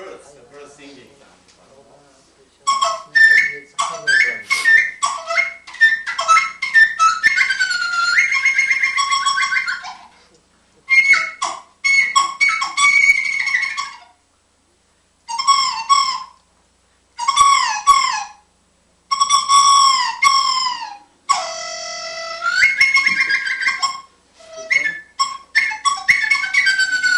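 A flute imitates birdsong with rapid trills, chirps and warbling runs in bursts separated by short pauses, bright and close.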